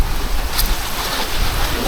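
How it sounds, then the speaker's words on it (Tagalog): Ocean waves wash up toward the shore where people are fishing, a steady broadband rush mixed with wind buffeting the microphone, with no talk. "naabot na yung alon dito baka madala pa yung isla natin"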